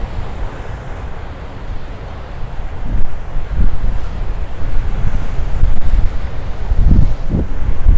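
Strong wind buffets the microphone at a beach campsite while ocean surf rolls in close by, a loud and steady roar with swelling gusts and wave surges and no voices.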